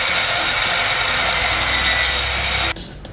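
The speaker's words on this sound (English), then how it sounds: "I'll use my grinder to take some of the cement surface down." An angle grinder grinds down a cement wall surface in an apartment renovation, a loud continuous harsh whine and scrape that cuts off abruptly near the end.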